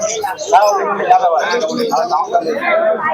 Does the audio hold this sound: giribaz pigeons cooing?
yes